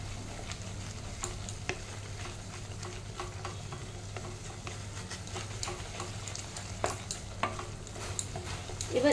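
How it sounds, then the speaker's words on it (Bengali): A potato mixture with sesame paste is stirred and fried in a pan, giving a soft steady sizzle with scattered scraping and tapping from the spoon, quiet and close. "দিয়ে এটাকেও আবার ভালো করে কষাবো, মিক্স করে নেব"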